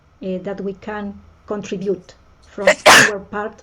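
One loud, close sneeze bursts out in the middle of a person's calm speech, with talking continuing on both sides of it.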